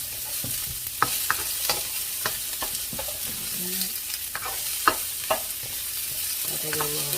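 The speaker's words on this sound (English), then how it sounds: "Alright, so we got a quick little stir." Food sizzling in a frying pan while being stirred, a constant hiss broken by a series of sharp scraping and tapping strokes of the utensil against the pan, close and clear, with no talking.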